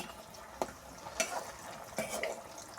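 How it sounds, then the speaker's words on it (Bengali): Crispy potato balls fry in a pan over a smoky wood fire, giving a faint, steady sizzle broken by a few sharp clinks of stirring. "এখন আমি ভালোভাবে ভেজে নেব।"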